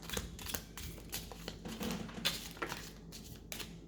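Playing cards being handled and cleaned, giving a run of quick, crisp clicks, flicks and light papery rustles at close range, fairly quiet, with no talking.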